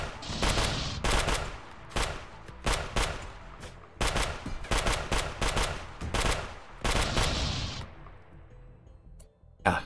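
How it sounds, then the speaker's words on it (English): EMP shotguns firing in a heavily modded colony battle video game against tribals, empire, pirates and mechas: dense loud volleys of rapid shots in several bursts with short gaps, tapering off near the end. "these EMP shotguns are just shredding these guys"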